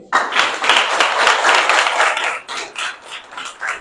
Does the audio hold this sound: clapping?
yes